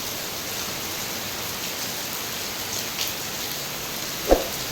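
Heavy downpour at NIT Silchar, a dense, steady hiss of rain filling the whole span, with a couple of brief sharper drips or knocks near the end.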